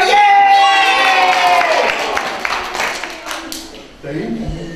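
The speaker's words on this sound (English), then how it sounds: "Everybody clap and go, yay!" A group of children clap and shout yay together at a magic show, a loud burst of mixed voices and hand claps that fades after a couple of seconds, followed by an adult voice.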